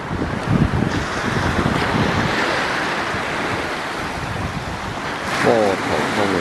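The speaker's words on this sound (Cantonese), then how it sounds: "面朝大海" Ocean waves surge and wash ashore where the Great Wall meets the sea, a steady roar with gusts of wind buffeting the microphone and a faint voice or two in the background.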